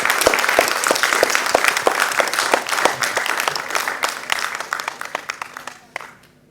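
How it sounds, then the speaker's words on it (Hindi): An indoor audience at an Independence Day event in India applauds loudly and steadily, the clapping sustained for several seconds before tapering off. "प्लीज आप अपने लिए तालियां बजाइए सभी।"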